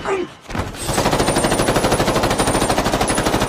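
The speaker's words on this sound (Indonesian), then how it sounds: "mereka pun terpaksa melawan hingga baku tembak pun" A film gunfight between robbers and police, with a loud, rapid burst of continuous automatic gunfire after a brief quieter opening.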